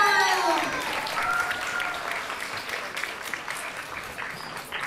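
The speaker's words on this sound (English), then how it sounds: "So please, another round of applause to the grade fives" Audience applause at a school instrumental band concert, with a speaker's voice trailing off at the start before steady clapping from the crowd fills the rest.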